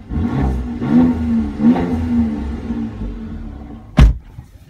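A sports car engine with a switchable sports exhaust revs several times in rising surges, followed by a single sharp exhaust pop or bang near the end.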